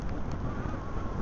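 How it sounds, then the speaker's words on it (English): Steady wind buffets the microphone while riding a ski lift down out of the clouds, a constant broadband rumble with no voices. "The wind isn't blowing as much up there as well. It's a little turbulent down here."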